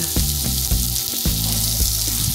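Smashed baby potatoes frying on a griddle give a steady, close hiss and sizzle with periodic crackling pops, alone with no talk.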